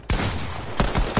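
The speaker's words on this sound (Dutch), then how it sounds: "Twee schoten echt net naast je." Gunfire in a video game: loud close shots crack in quick succession, about three sharp bursts within a second with a dense roar between them and no talk.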